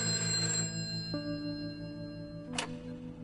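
Telephone ring heard while placing a call in a PS4 video game, a steady sustained electronic tone with shifting pitches and a short bright click near the end, moderately quiet with no voices.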